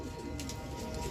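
Grey kamangar pigeons give low, soft cooing notes in a short burst, close by, over a faint background hum.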